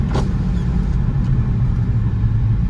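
A steady low turbo diesel engine drone heard from inside a Volkswagen Golf TDI with windows slightly down, with a constant rumbling hum throughout and a brief faint hiss near the start.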